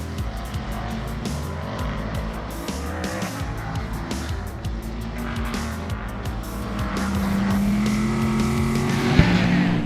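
A race car engine roars loudly and steadily, rising in pitch near the end, with a sharp pop from the exhaust.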